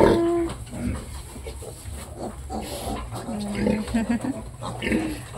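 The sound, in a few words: piglets on a farm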